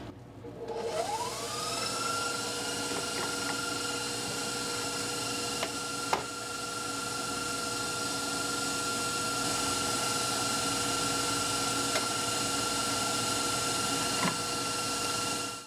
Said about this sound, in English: While that's cooking, I'm going to start my mixer.